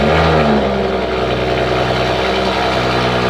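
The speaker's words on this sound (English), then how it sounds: "we gotta get a little first-person POV cold start right now" A BMW 435i with a racing cold air intake starting from cold, the engine holding a loud, steady high idle with a deep resonant drone close by, no talk.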